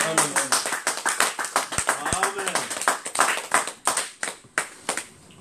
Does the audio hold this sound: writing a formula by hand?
no